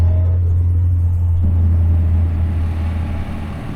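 A 1960 Austin-Healey MK1 Sprite, the Bugeye or Frogeye, drives along with a steady, loud low engine drone and road rumble throughout, and the note deepens slightly partway through.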